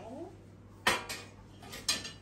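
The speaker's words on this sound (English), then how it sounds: "let's put it on the chopping board" A homemade mushroom and kimchi pizza on a metal tray is set down on a chopping board, giving two sharp clattering knocks about a second apart at close range, with a brief voice just before.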